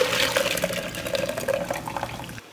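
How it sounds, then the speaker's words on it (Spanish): Hot boiled aromatic liquid pours through a strainer in a steady close trickling stream, continuous for about two seconds before stopping abruptly. "lo vamos a pasar por un colador"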